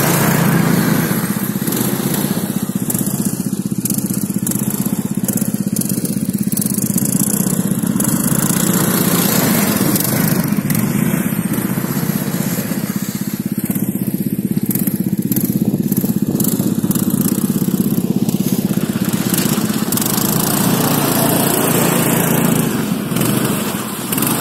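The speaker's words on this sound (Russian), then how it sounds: "Вращение, двигатель на средних оборотах работает." An Irbis Tungus 600L snowmobile engine runs steadily at medium revs while riding through snow, giving a loud, continuous buzzing drone close by with no pauses or talk.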